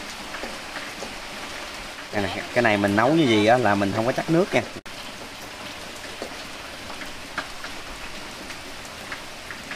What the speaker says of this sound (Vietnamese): Mưa nó mưa nãy giờ.